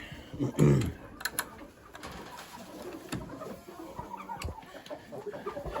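Lavender Orpington hens and roosters clucking and cooing inside a barn, a loud close squawk near the start followed by scattered softer clucks and rustling, with faint voices in the background.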